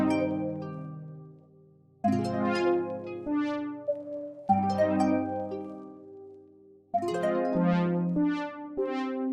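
Three layered synth samples built in FL Studio playing together, bright plucked and bell-like tones over warm sustained chords, four phrases each starting with a crisp attack and ringing out, minimal and melodic.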